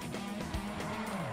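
A car's tires skid and squeal on pavement in GTA V, a loud continuous screech with engine noise running the whole way through.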